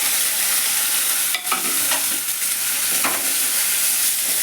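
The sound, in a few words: onions frying in a pan with spices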